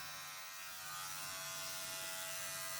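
Steady electric buzz of a hair clipper running continuously during a self-haircut, close and even in tone with no talking.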